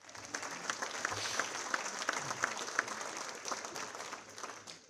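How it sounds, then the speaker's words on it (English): A gala ballroom crowd applauds steadily for several seconds, a dense even patter of many hands heard from a moderate distance. "Round of applause for Roro over there"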